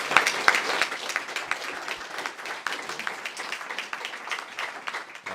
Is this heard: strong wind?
no